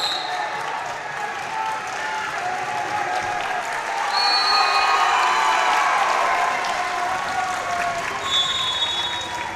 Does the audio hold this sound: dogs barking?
no